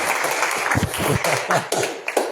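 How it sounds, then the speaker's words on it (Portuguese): A church congregation at a home prophetic service claps, giving a thin, loose patter of hand claps that is fairly close and steady over a couple of seconds. "Se pode dar uma salva de palmas ao Senhor."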